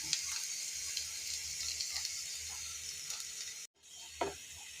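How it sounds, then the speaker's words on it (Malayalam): Beetroot sizzles steadily in hot oil in a pan, a dense, even crackle close to the mic that drops out for a moment near the end, then resumes with a few sharper pops as the pieces are stirred. "ചട്ടി ഒന്ന് ചൂടാകുമ്പോൾ അല്പം എണ്ണ ഇട്ട് കൊടുത്തിട്ട് നമുക്ക് ആ ബീറ്റ്റൂട്ടില്ലേ അതൊന്ന് വാട്ടിയെടുക്കണം"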